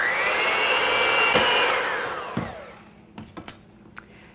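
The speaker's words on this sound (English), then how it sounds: "Then we're going to use our mixer and beat this on low until it's light and fluffy." An electric mixer beats butter and granulated sugar on low, a close, steady whirring drone that winds down and stops, followed by a few light clicks and knocks.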